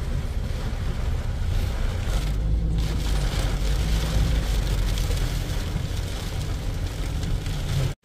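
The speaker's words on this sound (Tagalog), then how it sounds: "Lakas pa rin talaga ng ulan." Heavy rain from Typhoon Carina and the monsoon, likely heard from inside a car, comes as a loud, continuous roar that lasts about eight seconds with no talking.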